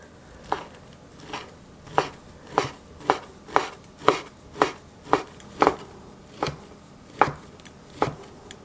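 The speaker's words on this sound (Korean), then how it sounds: "오뎅 5 장을 채 썰어 주세요." A knife cuts through sheets of fish cake (odeng) into strips on a cutting board: about a dozen crisp, evenly paced chops close by, each a sharp tap, with no talk.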